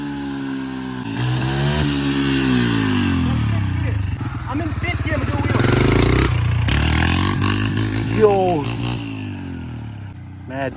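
A dirt bike fitted with an oversized rear sprocket launches in third gear, its engine rising and falling loudly through revving pulls with a rider speaking over it.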